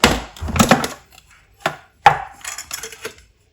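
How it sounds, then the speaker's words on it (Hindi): Raw mince ingredients are chopped on a board with a knife. Close, sharp thuds come in quick bursts with short pauses between them, and no one speaks. "अब इनको अच्छी तरह हम चॉप कर लेंगे।"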